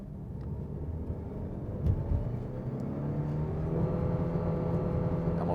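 2023 Mitsubishi Outlander PHEV plug-in hybrid accelerating hard from 0 to 100 km/h in high power mode, heard from inside as a rising hum and whir of motor and engine climbing steadily in pitch, with tire and road roar building.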